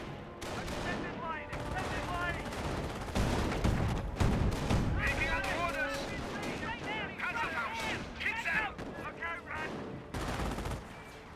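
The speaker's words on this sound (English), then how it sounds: "Section firing away" Infantry section gunfire rattles through a Company of Heroes battle, with bursts of rifle and machine-gun fire and booms layered under continuous game sounds and voices.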